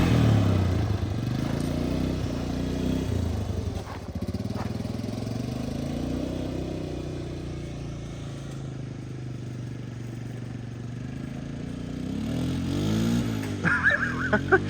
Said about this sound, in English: There he goes, riding his big red.